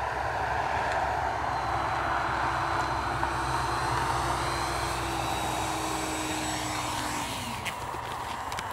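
A Dynam Meteor V3 70mm electric ducted fan RC jet with 12-blade fan on 4S power, fitted with skis, flies over snow at high throttle, a steady loud whooshing whine that shifts pitch as it passes.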